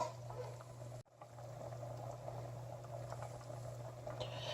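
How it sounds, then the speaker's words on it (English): White chili simmering in a pot, a faint, steady bubbling with soft pops as bubbles break the surface, under a constant low hum, alone and quiet. "Notice that the bubbles are breaking the surface, but it's not a rolling boil here"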